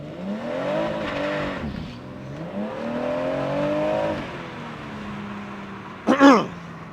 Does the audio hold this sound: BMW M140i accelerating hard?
yes